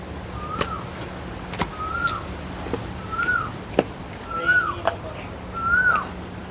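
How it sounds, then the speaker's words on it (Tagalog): Birds call near the Escarceo lighthouse in Puerto Galera: about five clear whistled, down-slurring notes at a steady pace, with scattered clicks and knocks over a faint low hum. "Ang ingay ng ibon."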